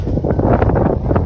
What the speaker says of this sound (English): told you we would have the wind against our faces